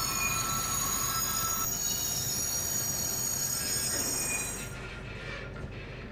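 Steady rumble and rolling noise of a train entering Wörgl station in a train simulator game, with squealing wheels over continuous track sound that settles slightly quieter near the end.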